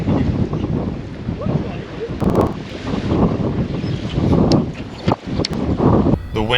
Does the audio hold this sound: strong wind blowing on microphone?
yes